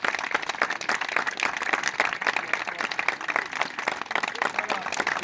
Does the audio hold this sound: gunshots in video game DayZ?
no